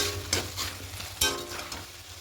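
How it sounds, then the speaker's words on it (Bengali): Potato and cauliflower sauté in a pan, a soft steady sizzle broken by a few scraping stirs of the spatula, close up and fairly quiet with no voices. "দিয়ে আবারও ভালো করে একটু কষিয়ে নেব।"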